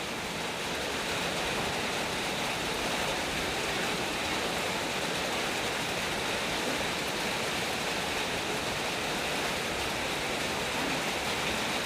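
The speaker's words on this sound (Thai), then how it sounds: "ถ่ายทำอยู่ดีๆนะครับ ฝนลงเม็ดเฉยเลยครับ" Rain falls on a hillside rose garden with terraced beds, a steady, even hiss that holds for the full length without pauses or voices.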